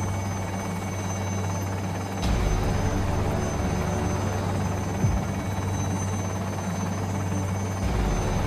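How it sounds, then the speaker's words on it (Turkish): A steady helicopter rotor drone in Minecraft holds throughout, loud and continuous, with a low engine hum and a brief shift partway through. "İşte helikopter geldi ya"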